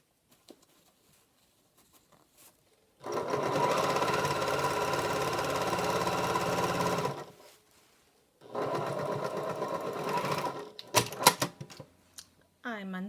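Sewing machine stitching an isolation gown with its thread tension set too high, running in two steady bursts of rapid needle patter separated by a pause, followed by a few short clicks.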